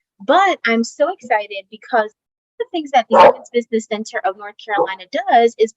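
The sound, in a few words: dog barking in the background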